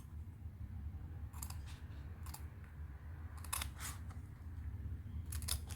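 Scissors snipping through fabric while making a mask storage case, a few short crisp cuts spaced apart over a low steady background hum, close and moderately quiet, with no talking.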